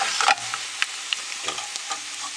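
A pancake sizzles in a hot pan, steady frying hiss broken by a few sharp clicks and scrapes as it is handled and turned over, close and alone without voices.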